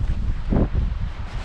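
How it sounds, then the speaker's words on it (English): Cold wind buffets a microphone outdoors in rough conditions, a loud, low rumbling roar with a brief stronger gust in the middle, no voices. "fighting cold wind"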